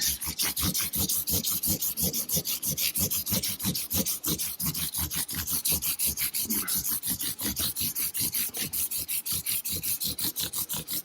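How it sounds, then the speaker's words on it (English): A guitar fretboard is sanded with fine 3000 grit sandpaper in quick, regular back-and-forth strokes, a close, steady rasping rhythm that continues without pause. "I'll go over it with 3000 sandpaper to take any little scores at the 600 sandpaper"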